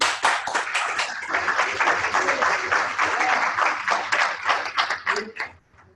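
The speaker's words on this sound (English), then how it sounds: "Let's clap for ourselves." A small group claps for themselves after a chair yoga session, a lively patter of hands for several seconds that thins out and stops near the end.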